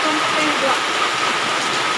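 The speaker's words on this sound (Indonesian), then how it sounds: "Tiba-tiba datang hujan lebat." Sudden heavy rain pouring down at an outdoor fish-feeding spot with food stalls, a steady dense hiss of rainfall filling the whole clip, loud and continuous.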